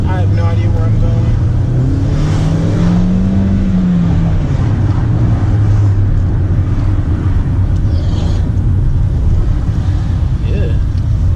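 A 2015 Hyundai Sonata engine accelerating, a loud droning rumble that rises and falls in pitch through the gears, heard from inside the car amid road and wind noise.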